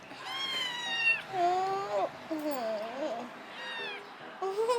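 A cat meows several times in a row, with long, clear, rising and falling cries close by, and a voice talks in between.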